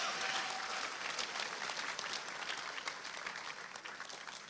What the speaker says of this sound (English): I want a round of applause to everyone here,